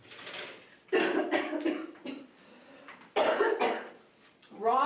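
A person coughs hard twice, with a short throaty fit and a second burst a couple of seconds later, close to the mic during a live schnauzer grooming session.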